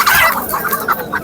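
Poultry market chickens, including factory-farmed hens, cluck loudly and close by in a brief burst of overlapping calls.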